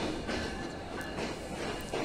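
The Jahanarabad Express pulls out of Noapara railway station, a faint, steady rumble of the moving train with soft rhythmic clatter of wheels throughout, with no talking over it.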